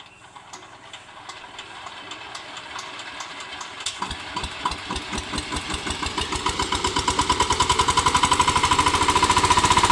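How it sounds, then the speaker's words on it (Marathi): A tractor engine is kick-started and then runs, its chugging pulses growing quicker and louder until they settle into a steady, loud, rapid knocking rhythm. "पप्पा आता ट्रॅक्टरला किक मारतात"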